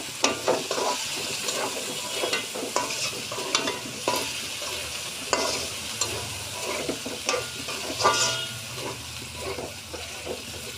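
Boiled potatoes being stirred into a sizzling pigeon curry in a pan, with continuous frying hiss and repeated scraping stirs of a spatula, close and fairly quiet, no talking.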